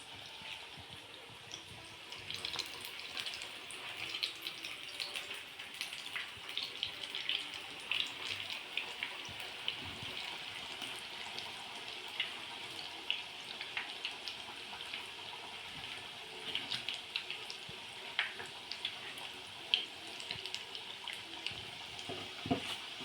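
Bhaji vada frying in hot oil, giving a steady, quiet, bubbling sizzle with scattered small pops and no talking.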